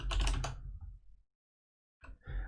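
Fast keystrokes on a computer keyboard while SSH commands are entered, a quick close burst of clicks, then a pause and a shorter second burst.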